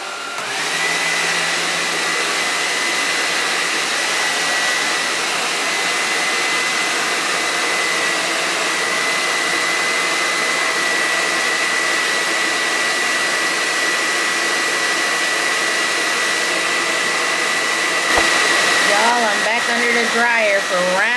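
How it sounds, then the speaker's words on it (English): Hood hair dryer running steadily for the whole stretch, a loud constant whooshing blower hum with a faint high whine, close and unbroken, with a brief rustle near the end. "I literally just got from under the dryer."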